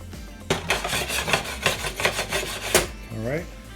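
Carrots, peas and other vegetables stirred in a pot for a chicken pot pie, a spoon scraping and rasping against the pot in about ten quick rhythmic strokes, close and clear, followed by a brief voice.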